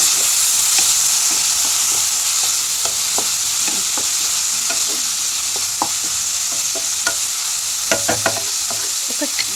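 Tomatoes sizzling and frying in a pan of Mysore papu curry, stirred with a spoon that scrapes and clicks at an irregular pace over a steady hiss, close and fairly loud with no talking.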